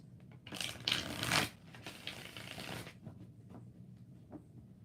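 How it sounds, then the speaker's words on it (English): Tarot cards being shuffled by hand, a few quick riffling bursts in the first three seconds, close and fairly quiet, followed by softer scattered card handling. "4 shuffles for Rashima Simmons."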